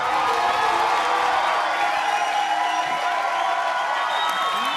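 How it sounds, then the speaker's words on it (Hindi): A crowd applauding and cheering loudly and continuously, with scattered whoops rising from the noise. "तालियां बजा दो, शेर खत्म हो गया है।"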